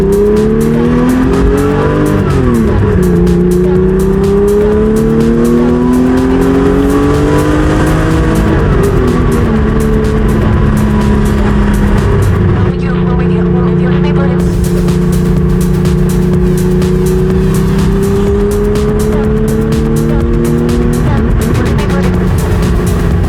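A 1973 Porsche 911E engine pulls steadily through gears on a road drive, its harmonic drone rising and falling with upshifts and loud throughout, with people talking over it at times.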